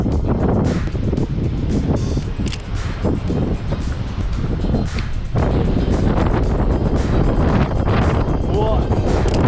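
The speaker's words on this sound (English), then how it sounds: "For some reason it's extremely windy today." Strong gusting wind buffets the microphone outdoors on a very windy day in Madeira, a loud continuous roaring rumble that briefly eases then surges again, with a person speaking underneath.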